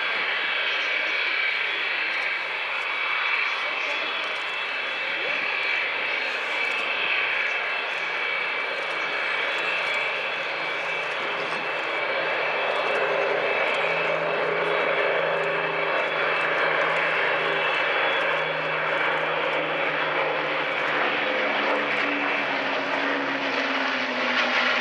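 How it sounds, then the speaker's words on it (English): Avro Lancaster bombers drone overhead at an air show at Dunsfold Wings & Wheels 2014, a sustained, loud multi-engine propeller roar that shifts slowly in pitch as they pass, with faint crowd or announcer voices beneath. "So ladies and gentlemen, that was the Mynarski Memorial Lancaster"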